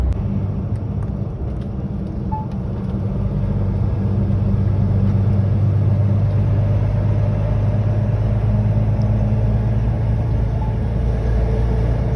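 A truck cruising along the motorway near Poznań, Poland, heard from inside the cab as a loud, steady low engine and road rumble that continues unbroken without talk.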